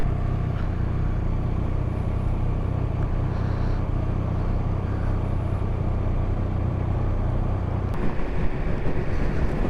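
A 2023 Triumph Speed Triple RS motorcycle engine drones steadily at close range with a low, rough rumble, swelling slightly near the end as it shifts up.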